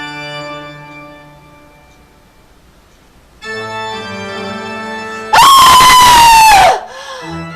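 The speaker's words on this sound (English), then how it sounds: "Screaming relaxes me so." Loud, shrill scream bursts in abruptly after a stretch of tonal music, holding at full strength for over a second before cutting off, with the music resuming briefly afterward.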